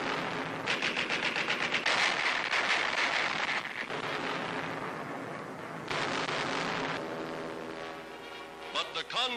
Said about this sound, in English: Pom-poms, anti-aircraft guns blaze into action.